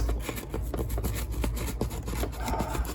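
A freshly sharpened knife cutting through material during a Porsche 911 roll cage install, a rhythmic series of close, rasping strokes about four to five per second.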